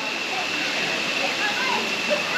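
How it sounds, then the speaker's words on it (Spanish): Steady broadband rush of flowing water at the Arenal volcano hot springs in Costa Rica, a continuous close wash of sound filling the whole clip without breaks. "Y estas son las termas"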